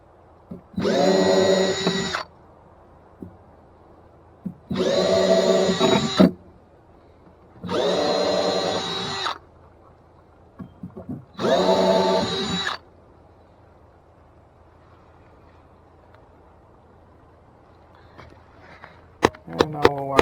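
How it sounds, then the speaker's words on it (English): Four separate bursts of a whirring power drill drilling a hole, each lasting about two seconds with pauses between, loud and close, followed by quiet with faint clicks. "So let's go ahead and drill a little hole here."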